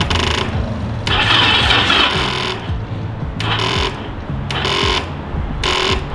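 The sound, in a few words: Yamaha V Star 1100 motorcycle engine cranking, failing to start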